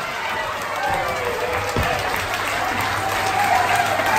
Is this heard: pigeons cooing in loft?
no